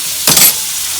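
A buttered low-carb tortilla is laid butter side down into a hot pan, giving one short, loud burst of sizzle and hiss that fades quickly into quiet.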